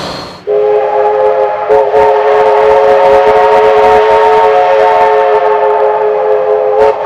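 A vintage diesel locomotive train in New South Wales sounding a long, loud, steady horn blast for several seconds, with train rumble beneath, no voices.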